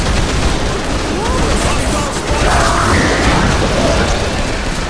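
Loud, dense gunfire and shooting in the zombie video game Dead Island: Riptide, a continuous roar of shots and mechanical clatter with shouting voices over it.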